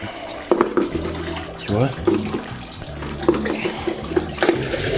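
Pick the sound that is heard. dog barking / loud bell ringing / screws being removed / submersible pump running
submersible pump running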